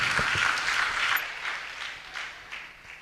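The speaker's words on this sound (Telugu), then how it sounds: "అందరూ చప్పట్లు కొడుతూ కర్తల ధ్వనులతో వారికి ఆహ్వానం పలుకుతాం" An audience at a church gathering applauds to welcome a doctor, a steady patter of many hands clapping at a moderate distance that gradually thins and fades.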